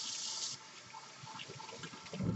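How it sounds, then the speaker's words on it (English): Water pours from a kitchen tap into a sink for hand washing, a steady hiss that briefly eases off and then swells again near the end. "Wash my hands."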